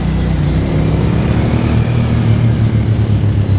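A Japanese V-twin superbike engine drones loud and steady, close to the rider, its low throbbing note rising slightly as the throttle opens, with wind rush over it and no voices.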